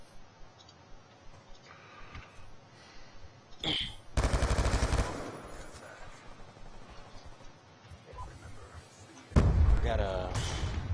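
Bursts of MP7 submachine gun fire in Call of Duty, rapid loud rattling in two main volleys with quieter game sounds between them.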